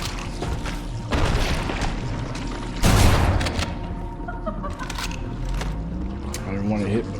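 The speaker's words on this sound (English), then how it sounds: "I didn't want to get hit by that explosion." A sudden loud blast from an explosion in Halo: Combat Evolved, a broad burst that jumps out around the three-second mark. Rumbling game noise, scattered impacts and other sounds run before and after it.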